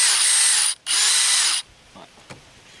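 DeWalt Xtreme 12V subcompact drill boring with a big drill bit, two loud high-pitched bursts of whirring split by a short pause, then a faint click and quiet.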